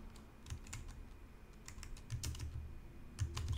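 Steady, soft clicking of keys on a computer keyboard as someone types out a restaurant menu, quick irregular bursts of taps against faint background hum.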